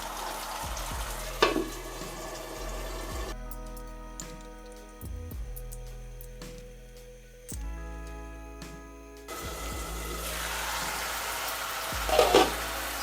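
Hot garlic sauce cooks in a pan, with a steady sizzle and frying hiss and occasional stirring scrapes, while low tonal hums and ticks run through the middle section and sharper clicks sound near the end.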